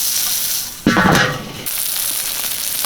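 Smash burger patties and buttered buns sizzle on a griddle, a steady close frying hiss that flares into a louder burst of crackling for a moment before settling back to an even sizzle.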